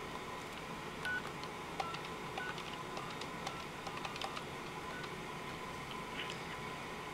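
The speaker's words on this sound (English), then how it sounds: "Okay, so I just dialed into a conference bridge." A telephone keypad dials into a conference bridge, sending short, faint DTMF tone beeps scattered over a quiet line hiss.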